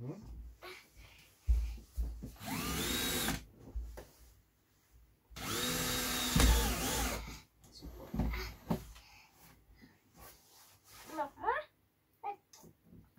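An electric drill whirs in two loud bursts while assembling a Traxxas XRT 6X6 RC truck, its pitch rising as it spins up, with voices talking in the gaps between.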